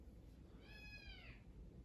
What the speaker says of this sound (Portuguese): A gata mais fofa que vocês vão ver na vida.